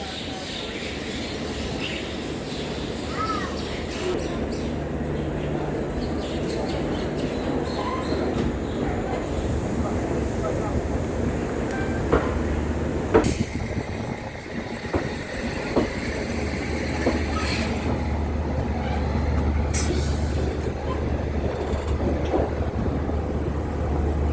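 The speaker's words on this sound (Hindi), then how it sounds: "फाइनली हमारी ट्रेन डिपार्ट हो चुकी है गोरखपुर जंक्शन से" A festival special train pulling out of Gorakhpur Junction, heard from on board: a steady dense rumble of wheels and carriages with clicking track joints and occasional squeals, continuous and fairly loud throughout.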